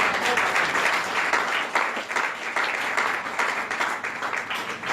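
A church congregation bursts into sustained applause after a French-language sermon line, a dense wash of many hands clapping steadily and loudly for the whole stretch, with a faint voice or two buried beneath.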